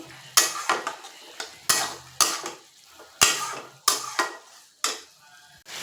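Paneer is turned through a spice masala in a pan with repeated scraping spatula strokes and metal clatters, in an irregular rhythm over a faint sizzle.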